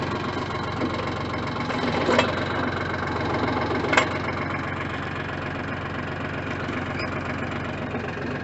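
A backhoe engine idles in neutral with a steady, rough mechanical rumble and a knocking pulse. Two brief metallic clanks stand out over the constant running drone.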